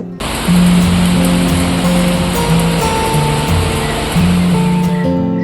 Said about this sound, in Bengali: আর এই দেখো ঝমঝমিয়ে বৃষ্টি হচ্ছে